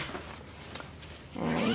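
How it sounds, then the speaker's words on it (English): A zipper slides open on a Coach Snap Head Baby Messenger Bag, a short smooth rasp at close range with a sharper zip toward the end, alone without talk. "zippers are very nice and smooth"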